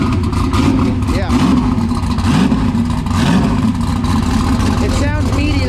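Turbocharged Chevrolet Camaro engine revving up close, a loud meaty roar with repeated rising and falling throttle blips, while people talk over it.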